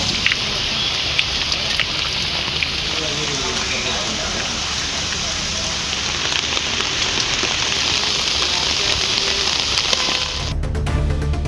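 Moderate rain falls steadily over villages around Arur, a dense, even hiss of drops on surfaces that continues without a break before cutting off abruptly near the end.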